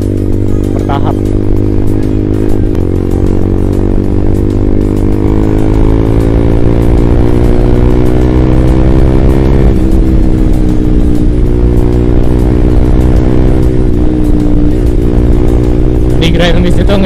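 Honda CBR 150R motorcycle engine running steadily while riding in fourth and fifth gear, a loud continuous drone with a slowly rising pitch as it gains speed, with wind rush throughout.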